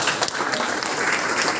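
A school audience claps together at a student encouragement ceremony held by a service organization, steady dense applause filling the room at full volume without a break.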